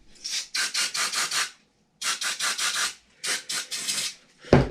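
On a Traxxas UDR RC truck, axle tubes get scrubbed in three close bursts of quick back-and-forth rubbing strokes separated by short pauses, ending with a sharp knock.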